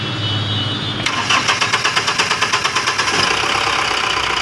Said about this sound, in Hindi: गाड़ी को हम स्टार्ट कर दिए हैं